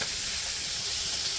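Fish and eggplant fry in a pan in a village kitchen, a close, steady sizzle and hiss that fills the moment alone without any talk.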